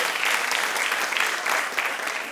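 Audience applause at a Sicilian cabaret show, a dense, steady clapping from a live crowd filling the clip without a break.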